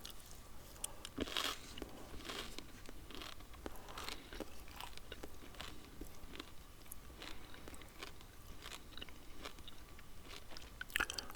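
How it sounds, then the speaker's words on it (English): Peppermint Wrigley's chewing gum being chewed close up, with steady wet crunching and biting sounds that repeat throughout, plus a few sharper crackles and faint rustles, and no talking. "it's peppermint flavoured Wrigley's Philip Knight chewing gum"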